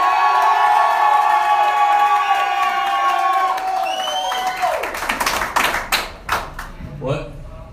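A crowd cheers and shouts in a clap-off vote, then breaks into loud scattered clapping and applause with sharp individual claps, voices fading as the clapping takes over.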